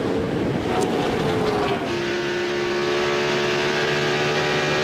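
A NASCAR Winston Cup stock car at Atlanta, the 24 car of Jeff Gordon, loses speed down the back straight; its steady engine drone falls in pitch partway through and then holds a lower, sustained roar.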